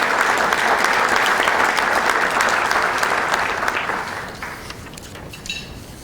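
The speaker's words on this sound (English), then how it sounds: "Let's have a round of applause for Sean Hayes and Powder Ridge" A breakfast crowd at a Middlesex Chamber event applauds Sean Hayes and Powder Ridge, dense clapping from many people that holds strong for about four seconds, then tapers off into a few scattered claps.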